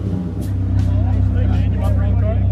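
A Dodge Viper pulls away at a car detailing shop, its low engine rumble steady and close while people chat over it.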